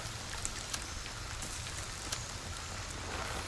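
Rain falls in the video game Escape from Tarkov, a steady soft hiss of drops on surfaces with occasional sharper patters, fairly quiet and even throughout.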